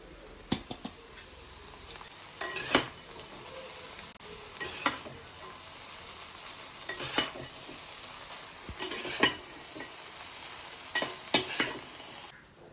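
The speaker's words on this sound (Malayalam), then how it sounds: "നമ്മുടെ വെജിറ്റബിളൊക്കെ നല്ലപോലെ ചെറുതായിട്ട് ഫ്രൈ ആയി വന്നിട്ടുണ്ട് അപ്പോൾ നമുക്ക് ഇതിലോട്ട് റൈസ് ഇട്ട് കൊടുക്കാം" Vegetables and rice being stir-fried in a pan for mushroom egg fried rice: a steady sizzle with repeated scraping stir strokes and spatula clatters every couple of seconds, close and moderately loud, no talking.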